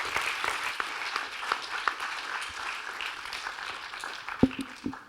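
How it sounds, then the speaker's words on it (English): An audience at an entrepreneurs' event gives a round of applause, a soft, steady patter of many hands heard from a distance, with a few louder claps near the end. "Okay, round of applause."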